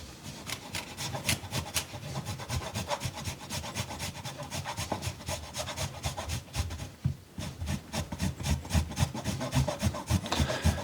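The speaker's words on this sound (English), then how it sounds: "So let's now try our 35 grams of cheese with the Deiss grater." A Deiss grater rasps through 35 grams of cheese in steady, rapid back-and-forth strokes, a continuous close scraping rhythm that runs for about eleven seconds.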